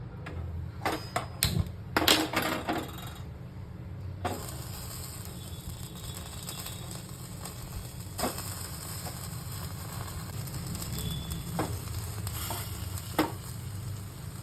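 Garlic-stuffed brinjal roasting directly on a gas flame, a steady roaring hiss with faint crackles, punctuated early by a few close clatters and taps, with no talking.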